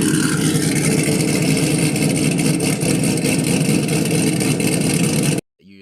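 A supercharged Camaro engine fitted with a BTR stage 3 blower cam runs loudly with a steady, choppy, pulsing rumble near at hand for over five seconds before cutting off abruptly.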